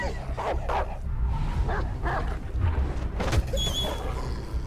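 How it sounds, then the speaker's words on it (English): Game dogs in Beyond Two Souls snarl and bark in short, close outbursts over a steady low background rumble. "Fuck you, dog."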